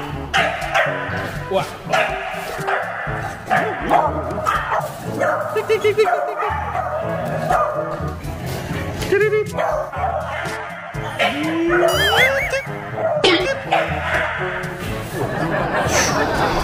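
Several dogs bark, yip and whimper at a crowded dog spa on the last day of the year, with busy overlapping barking throughout, mixed with people chattering and talking in the background.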